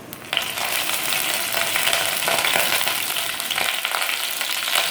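Cumin seeds and curry leaves hit hot oil in an already heated kadhai for sabudana khichdi, bursting into a loud, dense crackling sizzle that continues steadily close by with no speech.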